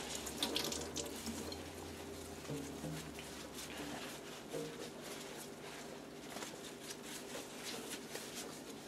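Tap water runs steadily into a tie dye bowl being washed out in a sink, a continuous close hiss and splash with small shifts in flow and no speech.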